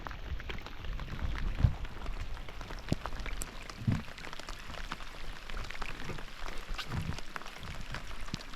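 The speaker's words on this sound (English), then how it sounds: "Gentle rain." Gentle rain patters on Douglas Lake under gray skies, a soft steady hiss with faint scattered drops and occasional low paddle splashes nearby.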